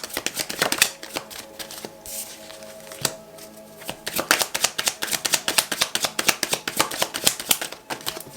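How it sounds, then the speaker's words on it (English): Tarot cards are shuffled and drawn from a deck at a reading. Quick, close riffles and papery slaps come in bursts, with a brief pause partway through and then a fast run of card flicks toward the end. No voice is heard. "Let me just pull out a couple of more cards."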